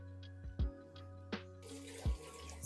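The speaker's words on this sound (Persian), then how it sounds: "الان من 2 لیوان برنج گذاشتم، 3 لیوان آب میذارم" Water poured from a cup onto rice in a pot while cooking kateh rice, a soft continuous trickle and splash, faint and close, punctuated by a few dull knocks and clinks of the cup and pot.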